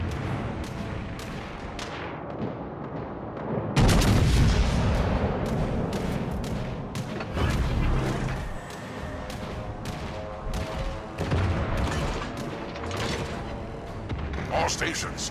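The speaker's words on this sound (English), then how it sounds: "All stations, concentrate fire on the target." Heavy naval artillery booms and gunfire from warships in the game World of Warships: Legends, a loud rumbling barrage with repeated blasts under game music and spoken voice lines.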